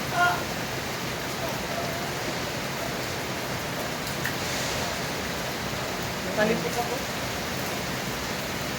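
Steady, dense rain falls continuously over a home in Cavite during a week of rainy weather, a constant hiss with a voice speaking briefly over it.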